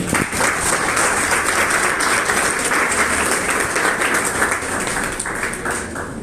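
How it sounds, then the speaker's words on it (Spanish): A church congregation applauds during a worship service, a full, continuous wash of clapping from many people that stays loud and steady for several seconds. "Denle un fuerte aplauso al Señor."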